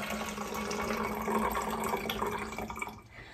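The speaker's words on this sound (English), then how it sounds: "Now I filled this baby up with water." A spray bottle is filled with water to dilute a vinegar cleaning solution, making a steady, close rushing pour that runs continuously before tapering off near the end.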